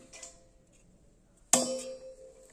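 Kitchen bowls being handled: a faint light tap early on, then one sharp ringing metallic clang as a bowl is set down, with a tone that decays over about a second, in a quiet room.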